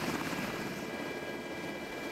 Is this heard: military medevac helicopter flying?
yes